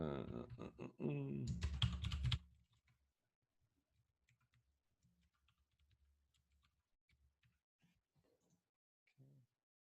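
Soft, scattered taps on a computer keyboard as a password is typed, faint and irregular clicks following a brief loud burst of other sound at the start.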